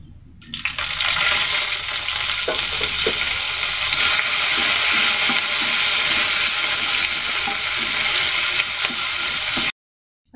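Curry leaves hit hot coconut oil with dried red chillies for a clam curry, giving a loud, close, steady sizzle and crackle that runs for several seconds before cutting off abruptly.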